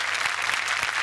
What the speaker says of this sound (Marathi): जोरदार टाळ्या उपेंद्र लिमे यांच्यासाठी.